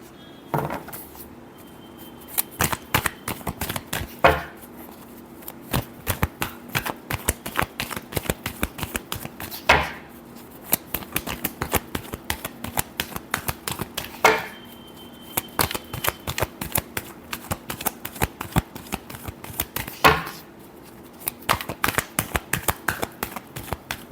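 Tarot cards being shuffled by hand, a long run of dense papery riffling and flicking, with periodic sharper snaps and taps as the deck is squared, close and steady with no talking.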